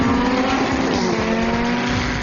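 Vintage race cars from the Historic Sports and Racing Car Association roar around Wakefield Park circuit in Goulburn, a loud sustained engine drone with tire squeal layered over it, steady and close throughout.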